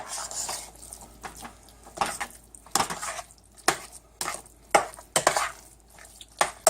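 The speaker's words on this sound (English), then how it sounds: "So now I'm going to stir this up." Oyster mushroom risotto stirred in a pot, a spoon scraping and knocking against the sides in uneven bursts separated by short quiet gaps, close and clear, no talk.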